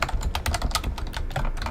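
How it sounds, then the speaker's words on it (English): Rapid, loud clatter of a computer keyboard being typed on during a video call, with dense irregular keystrokes continuing throughout and no talking. "Whoever's typing with their feet, please mute."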